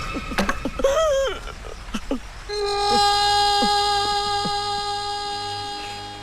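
A truck horn blares in a long, loud, steady tone lasting several seconds, close and rushing in, with a brief burst of voices and movement just before it.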